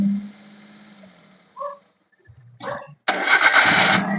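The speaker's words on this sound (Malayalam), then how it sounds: "നമ്മളിപ്പോ ഒന്നുകൂടെ സ്റ്റാർട്ട് ചെയ്തു." A Maruti Alto car engine is cranked and started while its idle is running too high: a brief starter whir, a couple of cranking bursts, then the engine catches and runs loudly and steadily up close.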